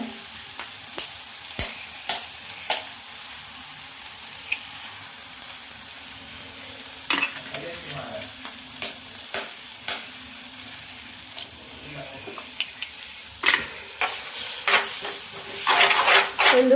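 Masala fries in a pan with a soft, steady sizzle while a spoon stirs it in repeated scraping strokes. The frying grows louder and busier toward the end.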